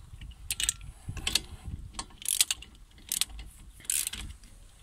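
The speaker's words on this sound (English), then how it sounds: "Probably want to use a better wrench than I've got here." A hand wrench tightening the locking wheel nuts on a car while fitting hub locks, giving a series of short metallic ratcheting clicks in uneven bursts, close up with no talking.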